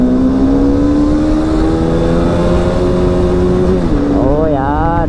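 A motorbike ridden with a passenger on the back, its engine holding a loud steady drone that shifts pitch near the end under heavy wind rush.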